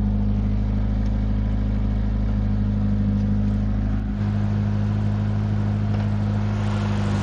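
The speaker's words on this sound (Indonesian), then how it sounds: "mesinnya CK4 ya, tahunnya 2000. Mesinnya masih cakep" Engine of a used 2000 car with a CK4 engine idling steadily and close, a constant low hum with no talk; the tone shifts slightly about two-thirds through, then keeps running evenly.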